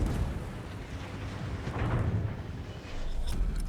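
Heavy high-explosive shells fired by the battleship Georgia in World of Warships land as a continuous rumbling barrage of deep booms, loud and sustained across the whole moment with no talking.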